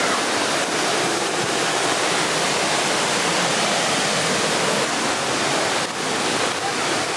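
Creek water in a North Georgia forest at Panther Creek rushes steadily, a loud, dense, continuous roar of flowing water close by, unbroken from start to finish.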